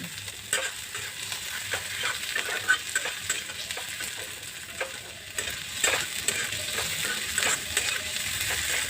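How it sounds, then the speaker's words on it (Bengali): Four or five green chillies fry with pieces of fish in oil for restaurant-style chilli fish, a continuous bright sizzle with repeated spatula stirs and scrapes, close and fairly quiet. "দিয়ে দিচ্ছি 4-5টা কাঁচা লঙ্কা। সেগুলো একসঙ্গে করে আমি ভেজে নেব।"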